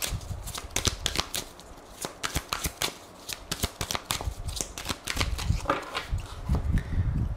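A deck of oracle cards shuffled by hand for a tarot-style reading, rapid papery riffles and flutters in quick bursts with brief pauses, close and clear, no one speaking.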